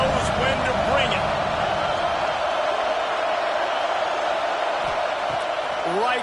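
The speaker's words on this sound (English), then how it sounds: "This crowd knows when to bring it." A stadium crowd in a college football video game, Texas A&M at Arkansas, roars in a loud, continuous wash of cheering. A commentator talks over it.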